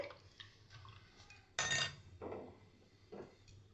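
Spoon clinks and scrapes against a pot while yogurt is stirred into milk for homemade curd, a few distinct metallic knocks spaced apart over a quiet kitchen background, with no talking.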